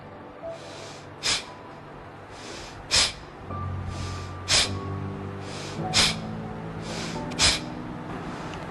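Deep breathing exercise: about six sharp, forceful breaths through the nose, spaced roughly a second and a half apart, close and clear against a faint musical background.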